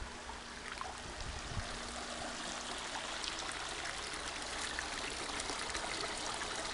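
Water from an aquaponics filter pipe pouring back into a fish pond, a steady close trickling stream with an even, unbroken splashing hiss throughout.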